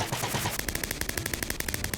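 Minecraft firework rockets hit the Ender Dragon in a rapid, evenly spaced string of sharp crackling bursts. They begin after a brief noisy lead-in and repeat about every tenth of a second until the end.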